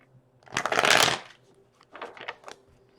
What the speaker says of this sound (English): Let me shuffle that one more time because I missed a card.